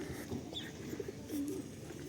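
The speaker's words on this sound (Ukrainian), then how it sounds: "голуби" Pigeons coo softly in low, throaty murmurs against faint outdoor background noise in Truskavets, Ukraine.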